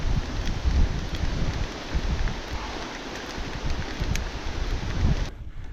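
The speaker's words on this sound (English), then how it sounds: "Oh, windy." Strong wind buffets the microphone at about 1,650 feet elevation on a trail hike, a steady loud rumbling roar with gusts that cuts off abruptly near the end.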